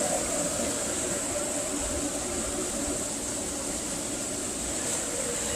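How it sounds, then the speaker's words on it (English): A pool filter pump runs steadily after being switched on, giving a constant mechanical hum and hiss with no change in level throughout. "turn the pump on"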